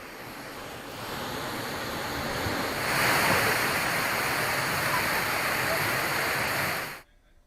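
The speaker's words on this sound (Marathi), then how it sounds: "प्रसिद्ध भिवतास धबधबा पूर्ण क्षमतेने प्रवाहित झालाय।" A constant heavy roar of the Bhivtas waterfall in Nashik district flowing at full force, broad and powerful, swelling slightly midway before cutting off abruptly at the end.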